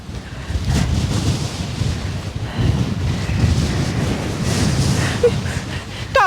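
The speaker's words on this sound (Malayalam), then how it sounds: "കാറ്റ് എന്നെ ഇങ്ങോട്ട് കൊണ്ടുപോകും" Strong wind buffets the microphone at the Ilaveezhapoonchira hilltop viewpoint, a continuous loud roaring rumble that surges and eases for the whole stretch, with no talk over it.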